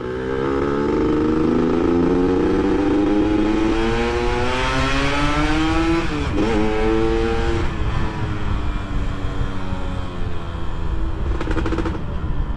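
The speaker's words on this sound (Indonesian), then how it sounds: "ini knalpot dari karakternya emang lebih ke merepet ya, bukan ngeratak sih" Motorcycle with a large carburetor and an FJP aftermarket exhaust, revving up and down repeatedly with a crackling, rasping tone, loud and close, with no talking.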